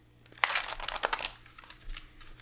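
Tarot cards being shuffled by hand: a burst of rapid crisp riffling and crinkling close up, fading into quieter soft handling, with no talk.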